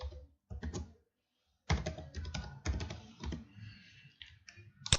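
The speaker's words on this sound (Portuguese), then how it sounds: "Deixa eu digitar direito aqui." Fast typing on a computer keyboard while entering a parameter in Revit software, close bursts of clicky keystrokes separated by brief pauses.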